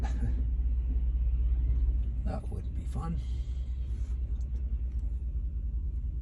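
Car engine idling in a garage after an intake manifold gasket replacement, a steady low rumble throughout, with a person speaking briefly over it.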